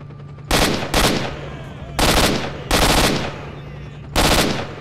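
Sniper rifle fire in the video game S.T.A.L.K.E.R.: Shadow of Chernobyl, five loud, sharp shots at irregular intervals with decaying echoes between them.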